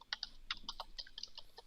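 Typing on a computer keyboard during a live coding session, a quiet, irregular patter of crisp key clicks at close range with no voices.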